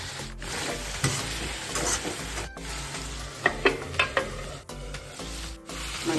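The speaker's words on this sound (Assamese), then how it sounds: "আজি মাংসটো সুস্মিতাৰ ষ্টাইলত মই লৰাইছোঁহে" Meat stir-frying in a hot pan with oil, a steady broadband sizzle broken by several sharp scraping and stirring knocks of the spatula against the pan, close and continuous with no talking.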